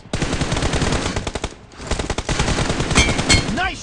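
Dense automatic gunfire from the mobile shooter game BGMI rattles loud and continuous in rapid bursts, breaking off briefly before resuming, with a few electronic game tones near the end.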